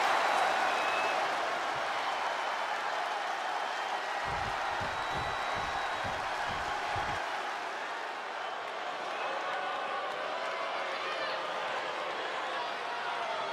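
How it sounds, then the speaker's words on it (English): A wrestling arena crowd at a WWE women's world championship match roars in a continuous broad wash of cheering, with a short burst of clapping-like thumps midway and commentators talking over it throughout. "Listen to that crowd!"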